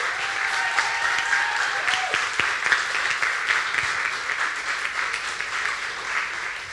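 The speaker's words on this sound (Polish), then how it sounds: "pożegnajmy ich oklaskami jeszcze" A church audience gives a theatre troupe steady, sustained applause after a performance. Many hands clap at once in a dense wash that lasts the whole stretch.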